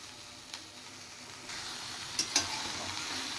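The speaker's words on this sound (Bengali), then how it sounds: "এবার এটা আমি হালকা সাঁতলাবো, বেশি ভাজবো না মাছটাকে।" Prawns lightly frying in oil, with a steady close sizzle and a couple of small sharp pops.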